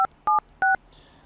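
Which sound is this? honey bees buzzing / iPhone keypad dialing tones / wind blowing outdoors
iPhone keypad dialing tones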